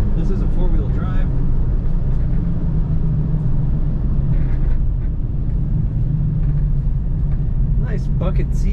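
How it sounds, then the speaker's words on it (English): A four-wheel drive truck rolls along a road with a steady, loud low engine and road rumble heard from inside the cab, while someone talks over it. "If I let go of the steering wheel, this truck stays nice and straight and lane."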